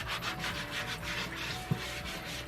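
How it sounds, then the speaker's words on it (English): A Scrubby scrubber rubbed back and forth over a cutting board, rhythmic close scratchy scrubbing strokes repeating steadily, with one small knock partway through. "I will also use my Scrubby on cutting boards just to get any extra grit and grime off of them."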